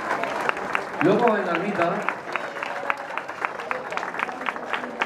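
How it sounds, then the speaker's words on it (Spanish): A crowd claps for the Centro Excursionista during an outdoor gathering at a hilltop hermitage, brisk scattered hand claps running throughout while someone speaks briefly over them. "Pues un aplauso para ellos."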